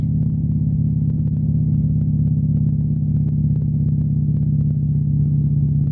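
Old Mack truck engine idling along at about 2,000 RPM, a steady low diesel drone with a strong, even rumble and faint ticking on top, constant and close for the whole stretch with no talk.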